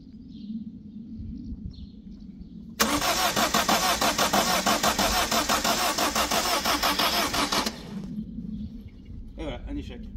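A 1.4 HDi diesel engine cranks steadily for about five seconds with a fast, rhythmic starter churn, loud and close, but never catches; quiet voices are heard before and after.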